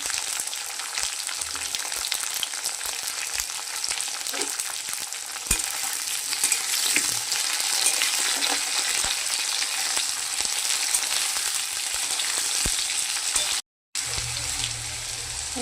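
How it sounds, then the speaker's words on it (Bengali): Tomatoes and green peas frying together in a kadai for a soaked matar dal curry, a long steady sizzle with spatula scrapes and clinks throughout, close and even, cut by a brief silent gap near the end. "আর কড়াইশুঁটি একসাথেই দিয়ে ভাজবো।"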